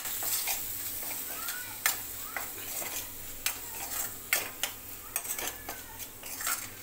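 Spices such as red chilli powder, turmeric, garam masala and pav bhaji masala stirred into a frying egg mixture for street-style anda ghotala, with repeated metal scraping clinks over a steady low sizzle, close by and without talk.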